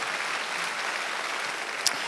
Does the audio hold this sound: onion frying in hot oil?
no